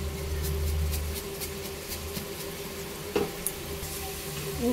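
Prawns cooking with salt and spice masala in a pan alongside gathi kochu (taro), a soft continuous sizzle with occasional stirring clinks, close and moderately quiet.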